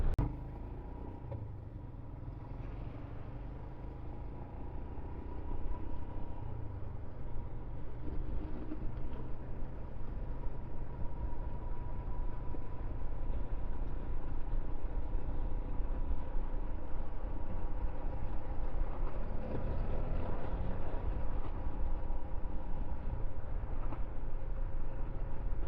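A 2023 Royal Enfield Himalayan 411 motorcycle riding on the road: a steady engine drone with rumbling wind noise that builds slightly as the bike gathers speed, heard from on board for about twenty-five seconds.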